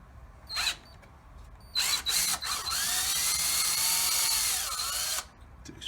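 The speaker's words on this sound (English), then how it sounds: "Take your drill, your screwdriver." Cordless drill whirs in two brief bursts, then runs steadily for several seconds as a screw backs out of a window balance clip, close and fairly loud.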